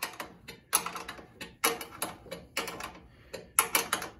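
Wrench clicking and ratcheting on a carburetor nut of a Troybilt 2410 snow thrower, heard as close, repeated metallic bursts in a steady working rhythm with short pauses between strokes.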